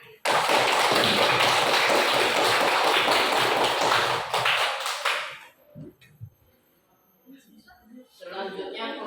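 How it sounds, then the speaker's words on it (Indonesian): A class of eighth-grade students applauds for a group in a classroom, a dense burst of clapping for about five seconds that stops abruptly, followed by quiet shuffling and faint voices. "Diberikan aplaus untuk kelompok 1. Tepuk tangan."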